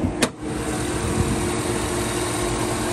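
A 2007 Chevy Tahoe V8 idling after a cylinder 7 misfire repair on a collapsed lifter, running as a steady, smooth low hum with a brief click near the start and no speech.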